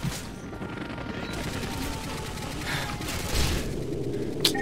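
Gunfire rattles through a Call of Duty Modern Warfare 2 co-op match, with sustained bursts over dense battle noise and a sharp louder hit near the end, no talking.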